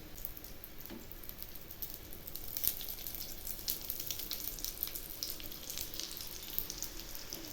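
Aloo paratha frying in oil on a pan, a quiet continuous crackling sizzle with scattered pops and spits, steady throughout.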